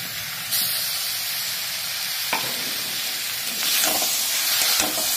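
Nutrela soya chunks frying over a low-medium flame with ground fried onion and masala, giving a steady close sizzle with soft stirring scrapes and a few brief bursts of hissing.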